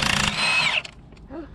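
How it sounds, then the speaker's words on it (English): A Milwaukee half-inch cordless impact gun working on a Volvo FH truck during a brake calliper and tyre change, one loud whirring burst of under a second that cuts off, followed by faint clatter and a short voice. "If you want a half inch battery gun, Milwaukee is just a brilliant gun"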